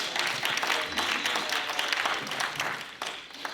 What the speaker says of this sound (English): Will y'all give me another round of applause